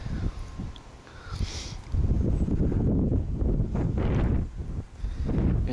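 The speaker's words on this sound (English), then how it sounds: "it's windy out here" Strong gusty wind buffets the microphone in rumbling bursts, loud and close, with faint indistinct sounds in the background.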